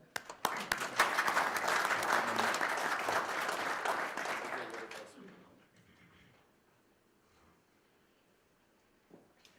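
Audience applause welcoming three speakers to a panel on the corporation in Indian society, loud and sustained for about five seconds, then fading to a quiet room.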